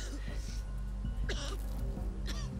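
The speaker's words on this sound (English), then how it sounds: "I was straight up just coughing already." A person coughs and clears their throat in a few short, rough bursts, close and fairly loud, over a steady background of voices and low room hum.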